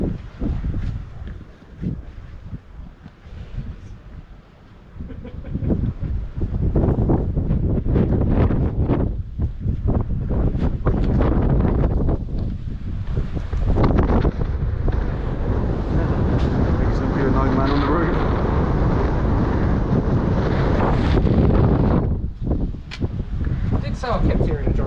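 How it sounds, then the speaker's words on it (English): Heavy wind buffeting the microphone outdoors at Grain Tower, a loud continuous roar that eases briefly early on, then surges and stays strong. "I think the wind's died for a sec."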